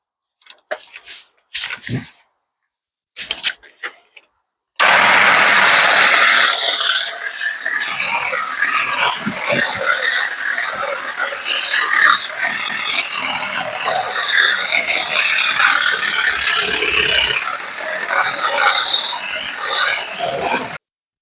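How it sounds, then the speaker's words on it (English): Battery-powered extendable hedge trimmer cutting back a blackberry bush on an allotment: a few short bursts at first, then a loud, continuous buzzing rattle of the blades chewing through stems, close and steady. "I've got my trusty battery hedge trimmer, so I'm just going to trim it all back, make it all neat"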